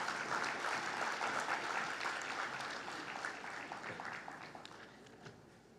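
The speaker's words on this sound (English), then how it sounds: "let's give them a round of applause." An audience applauds a panel leaving the stage at a public consultation on domestic violence, sustained dense clapping heard from a moderate distance, gradually tapering off.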